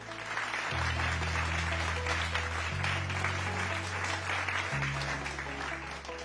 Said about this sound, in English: I ask you to join with me in a moment of applause as a sign of our